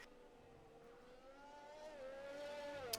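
Formula One engine from the McLaren F1 car in the racing game F1 2020 at the Singapore Grand Prix, a steady high whine that climbs in pitch as it crosses the line, fairly faint and unbroken, with no talk.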